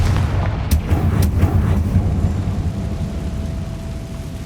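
A Confringo fire spell in Hogwarts Legacy bursts with a heavy low boom and rumbling crackle, followed by a few sharp cracks and a long fading roar.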